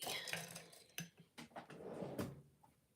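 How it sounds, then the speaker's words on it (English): Rummaging in a kitchen drawer for a paper towel: close clatters and knocks of contents shifting, a drawer sliding, and a final bump as it shuts, all fairly faint. "I just have a paper towel in my drawer in case you're wondering what I'm doing in my drawer."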